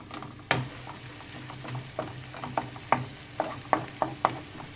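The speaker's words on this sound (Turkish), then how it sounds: "Salçamızı da güzelce kavuruyoruz." Tomato paste and onions frying and being stirred in a pan, a steady sizzle beneath repeated scraping spoon strokes that come in a loose rhythm, close and fairly loud with no talk.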